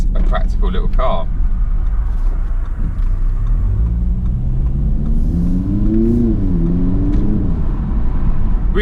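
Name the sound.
2019 Audi TT with 2-litre 4-cylinder turbo engine driving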